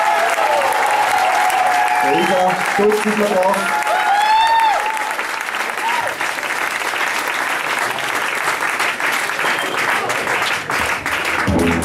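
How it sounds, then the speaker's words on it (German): A theatre audience at the Hippodrome breaks into loud, sustained applause, a dense wash of clapping that carries on throughout while someone speaks over it. "bitte einen großen, großen Applaus"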